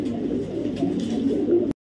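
A racing pigeon of imported bloodline coos in a low, steady murmur, with other birds faintly around it, for nearly two seconds before it cuts off abruptly.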